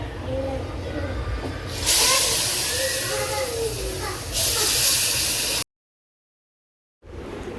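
Hot milk poured into semolina roasted in ghee sets off two loud, close bursts of hissing sizzle, each lasting over a second, over a low background rumble, followed by a brief dropout to silence.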